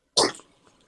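A single sneeze bursts out loud and close, with a short fading tail afterward and no talking around it.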